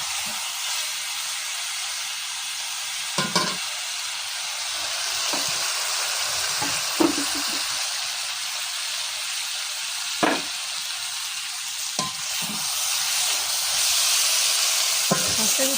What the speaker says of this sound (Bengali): পেঁয়াজ দিয়ে আর কি ভেঙে করা হচ্ছে মাছটা।